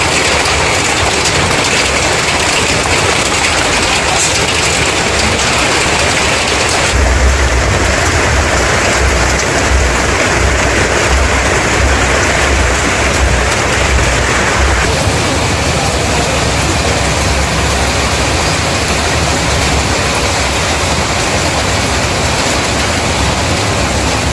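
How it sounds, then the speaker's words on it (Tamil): Heavy rain driven by wind pours over the Valparai estate area, a loud, unbroken roar of downpour that continues evenly for over twenty seconds with no voices. "வால்பாறை எஸ்டேட் பகுதிகளில் காற்றுடன் கனமழை"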